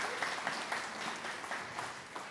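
Audience at a FASHIONCLASH Festival open mic night applauding, a short burst of dense, fairly distant clapping that stays even throughout.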